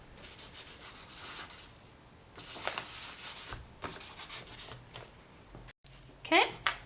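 Sanding a small red polymer clay rose pendant by hand gives repeated soft rubbing and scraping strokes in bursts, close and fairly quiet, with a brief sharper scratch near the end.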